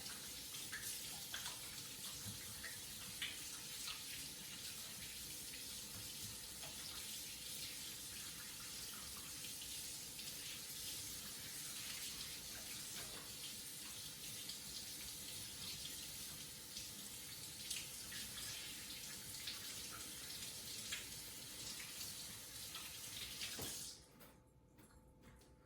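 A kitchen tap runs steadily into a sink as hands are washed, a continuous close splashing hiss with small knocks, cutting off near the end to leave quiet.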